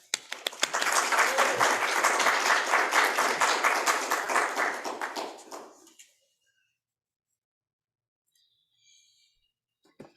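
Audience applause breaks out to welcome a speaker onto the stage, with a dense crowd of clapping hands that holds steady for about five seconds, then fades out and leaves near silence.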